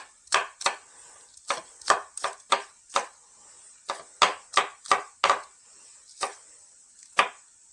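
A knife chops green onions on a cutting board, about fifteen sharp, close knocks coming in uneven bursts with short pauses between them. Nobody speaks.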